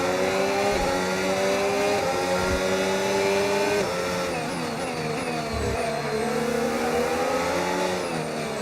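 A Formula 1 car roars around the Singapore Grand Prix circuit in F1 25. The engine whine is loud and continuous and sits close by, its pitch rising and dropping through the gear changes.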